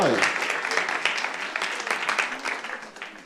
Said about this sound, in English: go ahead and give him a round of applause. Let's clap for God.